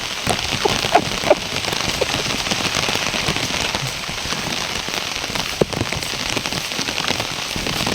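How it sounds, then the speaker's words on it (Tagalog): Heavy rain pours steadily and loudly on a farm, a dense, continuous hiss with a few sharper drops standing out, no voices. "Lakas na ulan dito."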